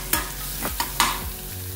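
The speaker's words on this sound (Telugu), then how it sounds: "బటర్ మెల్ట్ అయిన తర్వాత ఇందులోకి 1/2 టీ స్పూన్ జీలకర్ర, ఒక చిన్న ఉల్లిపాయ తరుగు వేసుకొని వేపుకోవాలి" Chopped onion and cumin seeds fry in melted butter with a bright, steady sizzle, broken by several sharp spoon taps and scrapes as they are stirred. No one speaks.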